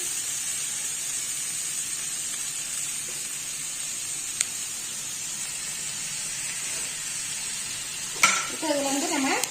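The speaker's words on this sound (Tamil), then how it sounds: "இதை நல்லா வதக்கி கொடுத்துக்கலாம் அடுப்பை குறைச்சி வச்சுக்கணும்" Cabbage rice with tomatoes sautéing in a pan over low heat gives a steady soft sizzle, with a brief scrape of stirring near the end.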